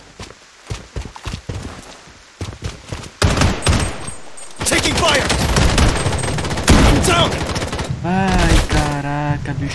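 Gunfire from the shooter game Project BloodStrike, including shotgun blasts: sparse shots at first, then dense rapid bursts and heavy volleys, loud and close, with a voice talking near the end.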